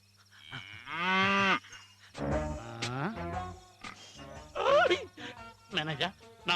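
Cattle moo several times close by, long low bellows rising and falling, with short pauses between calls.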